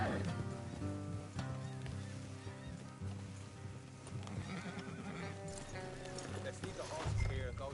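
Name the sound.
horses walking, hooves clip-clopping, in video game Red Dead Redemption II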